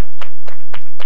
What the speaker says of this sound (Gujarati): તાળીઓના ગડગડાટથી વધાવો ભાઈ ટ્રોફીને